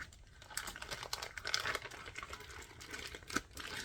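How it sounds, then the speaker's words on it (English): Leftover bacon slices are slipped into a plastic Ziploc bag, giving close, soft crinkling and rustling of thin plastic in short irregular bursts. "we'll put the bacon that's left over in a Ziploc bag"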